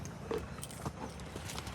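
A mare walks on a hard surface, her hooves making soft, fairly faint clip-clop steps at a steady pace, with light background noise and no speech.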